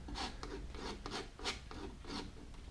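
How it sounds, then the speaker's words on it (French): Palette knife scraping thick oil paint of yellow ochre, titanium white and medium cadmium yellow across canvas, giving a series of about six rasping strokes in an even rhythm, close and moderately quiet with no speech. "je la gratte pour revenir sur cette surface ensuite"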